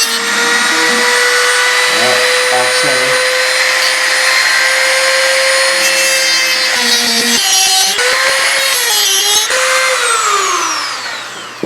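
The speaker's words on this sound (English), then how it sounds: "he's basically turning these drive pins into a screw by cutting a little slot in them" Grinding a slot into drive pins on a South Bend 10K lathe under restoration: a loud, steady high-pitched tool whine holds for several seconds, then breaks into choppy bursts as the cut engages and releases, ending in a falling spin-down.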